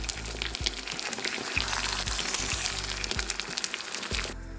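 Steady close-up sizzling and crackling of chicken liver frying in a hot pan, with occasional soft clinks and stirring sounds.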